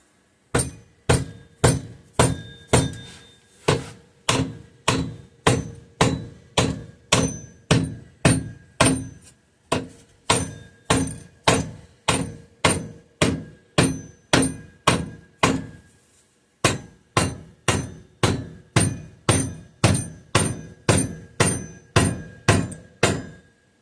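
A hammer taps the cast aluminum of an old McCulloch chainsaw in a steady series of sharp, ringing strikes, about two per second, close and clear with no voices.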